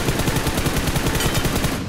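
Rapid automatic gunfire in PUBG Mobile, a loud, steady burst of closely spaced shots lasting about two seconds, alone without talk.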